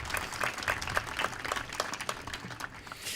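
Scattered clapping from an audience at the 2018 Tridge rededication ceremony in Midland, Michigan, with individual claps popping out of a thin, fairly quiet patter that stays steady across the span.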